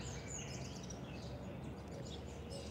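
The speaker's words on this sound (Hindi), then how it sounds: "पक्षियों की आवाज़ सुन रहे हैं हम लोग" Several birds sing and chirp outdoors in the early morning, high bright calls scattered over a soft steady background hum, faint and fairly distant, with no voices.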